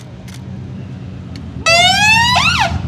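Aston Martin Formula 1 safety car arriving at the 2022 Baku Grand Prix in Azerbaijan, its siren wailing loudly and close with rising and falling sweeps after a quieter background hum, no talking.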